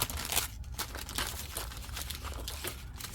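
A brown paper lunch bag is handled close up, giving continuous crinkling and rustling with a few sharper crackles over about three seconds.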